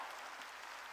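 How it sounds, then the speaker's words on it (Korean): A church congregation applauding during a worship service, a steady dense wash of clapping from many hands filling the room without a break, with no talk over it. "박수로 하나님께 영광 돌려"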